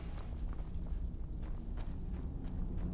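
A horse's hooves clip-clop in the video game Skyrim, in a steady walking rhythm of quick, even steps over a low rumbling ambience, fairly faint and with no talk.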